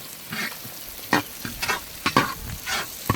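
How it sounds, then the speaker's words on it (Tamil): Onions sauté until brown in a pan for a Sri Lankan mutton dish, with a low sizzle broken by irregular scraping and clattering bursts as a spoon stirs them, close by and without speech. "வெங்காயம் நல்லா வதங்கிட்டு இருக்குங்களா?"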